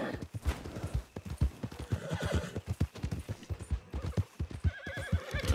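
Horse hooves clip-clop in a rapid, steady gallop while riding off the trail in Red Dead Redemption 2, close and prominent, with a whinny and some game ambience mixed in.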